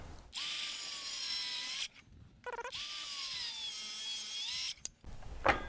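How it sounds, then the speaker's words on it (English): A jigsaw cuts a deck board, with two long loud buzzing runs separated by a brief pause, and a short stop-start burst between and after them. "then I can finish it with the jigsaw"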